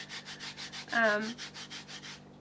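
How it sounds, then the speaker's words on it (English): A hand rubs back and forth over the rough surface of a B-plate. The close scraping strokes repeat evenly, about five per second, with one brief squeak partway through and no voice. "If I rub it like this,"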